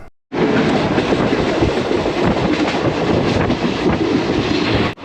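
The Maa Tara Express passenger train running on rails in West Bengal, a loud, steady roar of wheels and carriages with rhythmic clatter, heard close from inside or beside the moving train after a brief quiet start.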